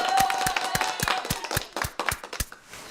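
A short applause sound effect plays on a live stream, a small group of claps in quick irregular bursts that thin out and fade over a few seconds.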